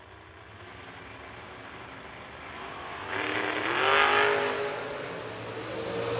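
Drag race cars launch side by side down the strip, a steady engine drone building into a loud, rising roar that peaks mid-run and holds strong toward the end.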